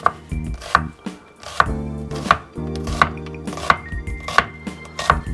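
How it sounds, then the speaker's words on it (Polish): A kitchen knife chops onion on a cutting board in steady, evenly spaced knocks, loud and close, with no voices. "teraz pokroję sobie cebulę"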